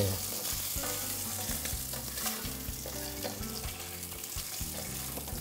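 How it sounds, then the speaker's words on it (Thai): A sausage frying in oiled pan sizzles steadily with crackling spatters, close and alone, while something else plays faintly underneath. "ความจริงทอดให้มีรอยไหม้นิดเดียวนะครับ เพราะจริงๆแล้ว ตัวของไส้กรอกมันสุกอยู่แล้วครับ"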